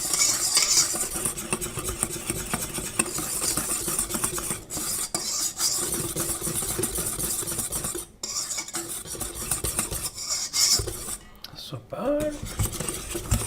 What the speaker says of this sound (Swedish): Tar en liten visp här och blandar ihop där ordentligt